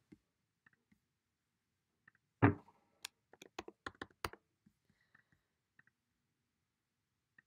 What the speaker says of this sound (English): type the word bunny